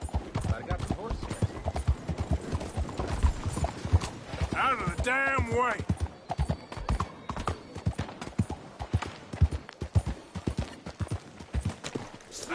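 Horse hooves clip-clop steadily and close in a PS4 video game, a rapid regular rhythm running throughout, with a brief whinny near the middle and someone shouting over the hoofbeats.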